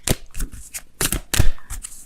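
Tarot cards being shuffled up close in quick riffling bursts, loud papery flutters repeating several times in a short span with no talk.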